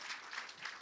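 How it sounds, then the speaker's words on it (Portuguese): Applause from the audience at a therapy and well-being congress, a brief, soft but dense patter of many hands clapping together, heard from a distance with no speech over it. "Uma salva de palmas para vocês"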